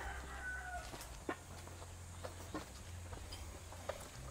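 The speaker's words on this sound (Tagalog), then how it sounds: "Okay, they have the chickens there." Native black chickens on a pig farm cluck softly with occasional short calls against a steady low farmyard hum; brief sharp bird calls punctuate the scene, and no one speaks.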